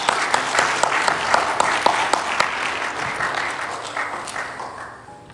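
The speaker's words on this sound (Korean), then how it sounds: "우리 김민정 지사님께 한번 격려의 박수를 드립니다." Congregation in a church clapping together, a dense burst of applause with sharp individual claps that gradually fades over several seconds, close and lively.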